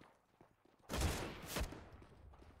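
Gunfire in a competitive video game match, including a wall bang through mid doors: a quiet background with a sudden burst of rapid shots, then a second shot or short volley, faint and slightly distant.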